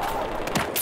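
A short, dense machine gun burst from the video game Battlefield 4 rattles quickly and close, with rapid overlapping shots packed into under a second.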